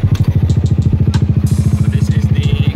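A Yamaha XMAX 300 maxi scooter fitted with a copy aftermarket exhaust pipe idles up close, its single-cylinder exhaust giving a loud, steady stream of rapid, deep thumping pulses with light mechanical clatter and no talking.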